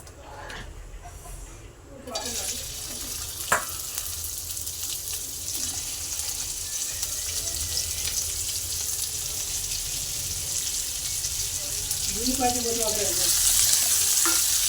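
Okra (bhindi) frying in oil gives a steady, loud hiss and sizzle that starts abruptly and runs unbroken, with a few faint stirring knocks and a brief voice near the end.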